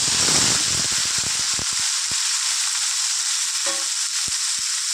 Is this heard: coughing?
no